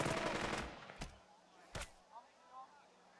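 Scattered gunshots from the World War I tactics game Burden of Command: a short loud burst at first, then a few isolated sharp reports with quieter gaps between them, with a voice speaking over the start.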